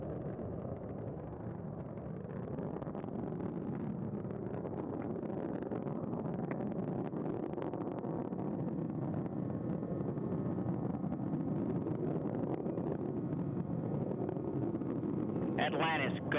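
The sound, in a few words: space shuttle Atlantis main engines roaring during launch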